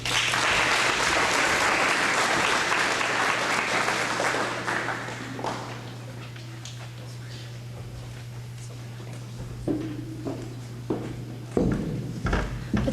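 Audience applause for children at an art club presentation, a dense sustained clapping that fades after about five seconds, followed by quieter room noise and a few scattered claps and bumps.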